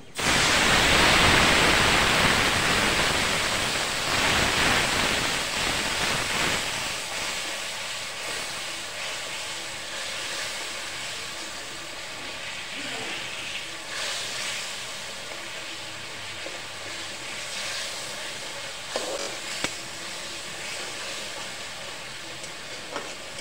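Spice paste of ginger and garlic frying in a pan for a taro-leaf curry, a steady broadband sizzle that is loud at first and then settles into a softer continuous hiss, with occasional small crackles.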